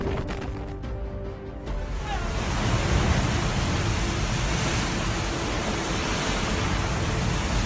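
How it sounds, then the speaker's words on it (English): Ocean waves crash against a house during a natural disaster, a loud continuous roar of surf and wind that swells after a brief quieter start and stays dense throughout. "The relentless waves crashed with such ferocity that they seemed determined to engulf the house completely"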